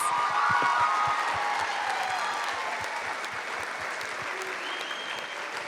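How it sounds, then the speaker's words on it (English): Audience applauds the cast after a community stage production of It's a Wonderful Life, a dense, sustained round of clapping that fades gradually without talk. "Let's give them one more round of applause."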